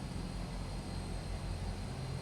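A de Havilland Twin Otter DHC-6-300 turboprop lands and rolls along the runway, its engine and propeller noise a loud, steady roar heard close up from inside the cabin.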